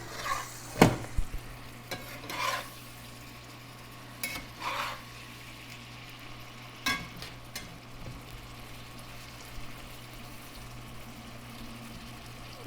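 Banana plant stems fry in a cast iron pan, giving a steady low sizzle broken by several sharp scraping and stirring clatters spaced a few seconds apart.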